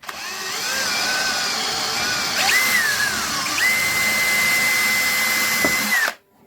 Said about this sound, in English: So we get the wood getting a bit thinner down here, so it's a bit easier to drill.